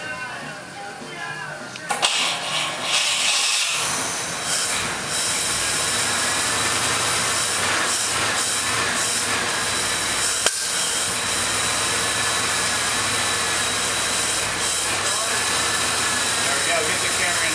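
Rebuilt 1941 Cadillac engine being cranked and firing up for the first time, a steady loud roar and hiss close by after a brief starter grind, with voices talking over it throughout.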